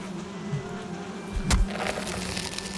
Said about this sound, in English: Oh, there's bees in here.